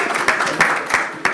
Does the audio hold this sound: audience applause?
yes